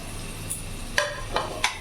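Onion goes into a pan with boiled carrots and long beans for chicken fried rice, giving a low, even sizzle with a few light scraping clicks from stirring.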